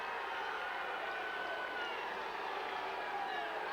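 Broad steady crowd noise at a 1995 Nebraska high school state wrestling championship, 119-pound final, a sustained murmur and mild cheering filling the gym without sharp peaks.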